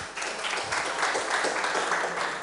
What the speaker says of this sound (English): a clap for yourself, please.